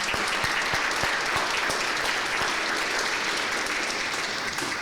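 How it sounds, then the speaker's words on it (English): Steady applause from a conference audience at a philanthropy forum, a dense continuous wash of many hands clapping, with a few sharper individual claps standing out, no talking over it. "So I want to give you a round of applause."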